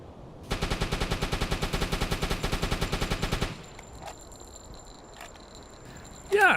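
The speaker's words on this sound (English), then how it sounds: "I've shot so many rounds at it." Naval video game guns firing rounds at a ship, a steady rapid stream of evenly spaced shots for about three seconds, then quieter background with a few faint clicks and one last loud burst.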